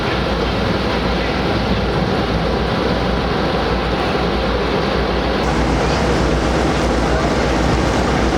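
Panama Canal lock filling quickly, a loud, dense rush and churn of water, continuous and close, with a faint voice mixed in.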